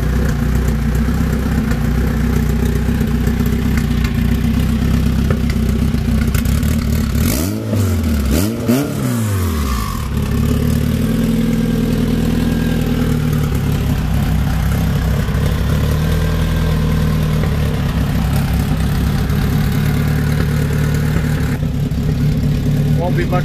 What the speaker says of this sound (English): Here she is, running and idling.